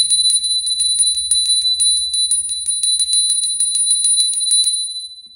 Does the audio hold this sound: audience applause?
no